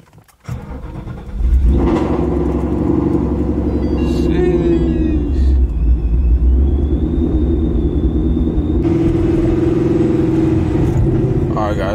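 A Procharged Ford Mustang drives along with a steady, loud engine drone and a thin supercharger whine that rises and holds, with occasional brief voices in the cabin over the continuous roar.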